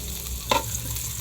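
Garlic sizzles in a pan for soup, a faint steady frying hiss with a brief stirring clatter in the middle of a short moment.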